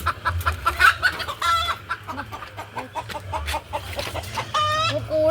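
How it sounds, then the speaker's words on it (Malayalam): Chickens cluck and squawk loudly and close by inside a coop that also holds pigeons, with continuous overlapping calls and no talking. "അല്ലെങ്കിൽ കോഴികളൊക്കെ പുറത്ത് പോകും"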